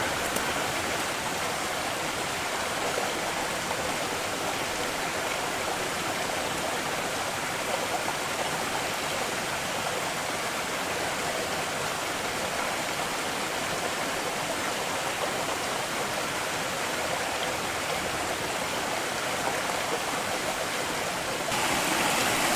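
A woodland creek below a roughly ten-foot drop on Tiger Mountain in Washington flows in a steady, even rush, heard alone and unbroken throughout.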